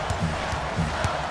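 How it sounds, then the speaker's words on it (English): Low, sustained booing from an arena crowd in the NBA Live 19 basketball video game, during a Clippers vs. Sixers match, rising and falling in a few soft swells without any talk. "I'm hearing some boos from the crowd."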